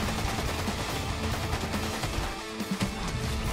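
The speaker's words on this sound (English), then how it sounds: "I'm gonna shoot you in the head." Fortnite gunfire rattles in a dense, continuous burst of shots, loud and close, with a brief dip near the end before the firing resumes.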